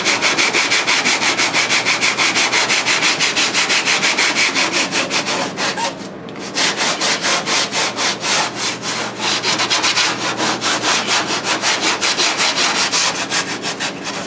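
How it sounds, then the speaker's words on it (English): Sandpaper rubs steadily back and forth on a car's rear quarter panel to clear off gummy resin; the strokes are loud, close and rhythmic, with one brief pause midway. "Right now you just get the resin off of there so your new sandpaper don't get all gummed up."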